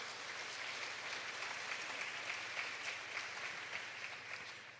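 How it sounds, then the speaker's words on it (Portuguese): A church congregation gives sustained, even applause, heard faint and somewhat distant, with nobody speaking until a brief bump at the very end. "Dê um aplauso à palavra do Senhor"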